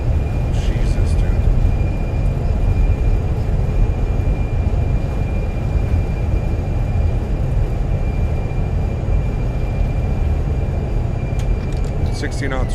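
Steady loud roar of Airbus A320 thrust reversers during landing rollout in Microsoft Flight Simulator, a continuous broadband rumble throughout with a faint high tone fading near the end.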